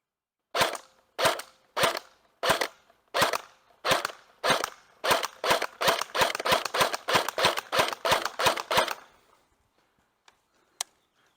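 Airsoft pistol fired at a paper target, about sixteen sharp cracking shots, spaced slowly at first then coming faster in a steady string, ending with one last isolated shot after a pause.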